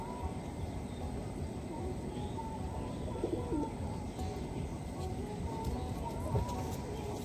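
Desi high-flying pigeons kept for sale in a loft at Swarupganj, Phakirtala, Nabadwip, with low murmuring coos running steadily under a dense, continuous outdoor background hum.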